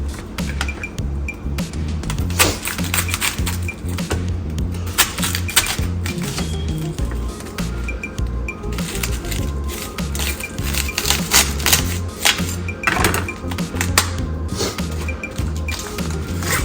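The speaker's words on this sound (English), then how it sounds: "Now I got my cabbage right here. I'm gonna go ahead and cut it up." A knife chops cabbage on a board for chicken stew, with rapid, irregular clicks and taps that run close and continuous, some blows sharper than others.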